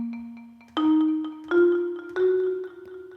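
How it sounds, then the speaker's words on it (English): Soft mallet chords struck three times in succession, each ringing and decaying, over a quieter sustained tone; fairly gentle and close. "next is the chords, which we need a marimba sound for"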